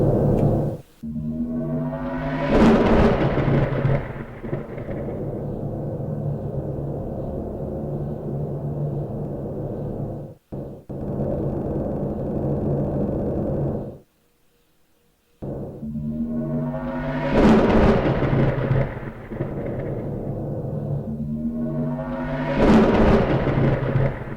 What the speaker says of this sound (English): See how those ion storms, they'll eat away at your shields.